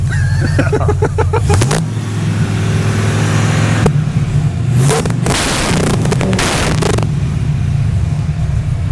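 A Ford car engine runs close by, revving up and settling repeatedly with a deep, throaty rumble, loud and steady throughout.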